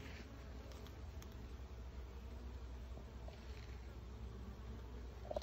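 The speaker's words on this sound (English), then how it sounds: "I bet you these bees are all from another hive." Honey bees buzzing around hive frames after a varroa mite loss, a faint steady hum of many insects with occasional louder passes near the microphone.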